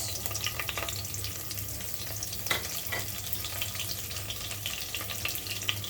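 Green chillies and cumin seeds sizzle in hot oil for a Dinajpur-style mango and onion curry, a steady close crackle with occasional stirring scrapes of a spoon in the pan.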